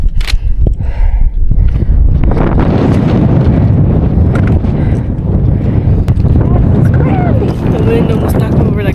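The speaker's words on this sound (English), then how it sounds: "The wind almost knocked me over like 5 times over the edge." Strong, gusting wind buffets the microphone high on Quandary Peak, a steep mountain summit in Colorado, a loud continuous roar with rumbling low-end bursts throughout, while hikers speak briefly amid the noise.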